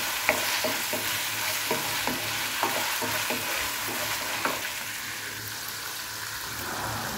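Frozen meat sautéing in a pan steadily sizzles, with regular clicking spatula strokes stirring through the first few seconds before the frying continues more evenly.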